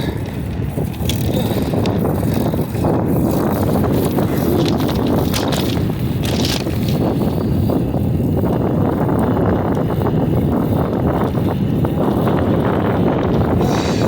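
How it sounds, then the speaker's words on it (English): Steady roar of wind buffeting the microphone while riding a bicycle into persistent gusts on a Houston street ride from Dairy Ashford toward Downtown, a dense continuous rumble with no clear pauses. "sort of got this persistent wind gust"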